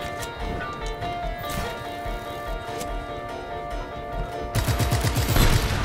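Video game gunfire in Just Cause 3, with repeated shots and rapid bursts crackling over a constant layer of game noise and music. The firing grows denser and louder toward the end.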